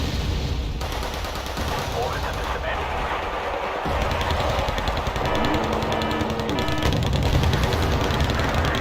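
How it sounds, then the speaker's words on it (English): Mortar shells and gunfire in the WARNO war game: dense, continuous battle noise with rapid bursts of gunfire and heavy blasts layered loudly throughout, with no letup. "mortars coming in on them"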